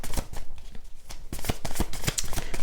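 Oracle cards are shuffled by hand close up, a rapid run of papery riffles and flicks in uneven bursts.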